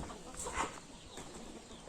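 Roosters of several breeds kept in a farm coop, with clucking and crowing calls rising briefly around mid-clip over a steady, busy background of fowl noise.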